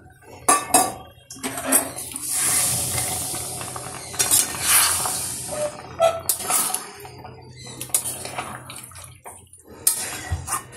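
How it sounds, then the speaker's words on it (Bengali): Fried prawns and parboiled jackfruit are stirred with spices in a cooking pot, a metal spoon clanking and scraping against the pot in irregular bursts over a soft low hum. "ভেজে রাখা চিংড়ি মাছ আর এসবটা এই ভিতরে দিয়ে দিচ্ছি। দিয়ে ভালো করে মশলার সঙ্গে নাড়াচাড়া করে"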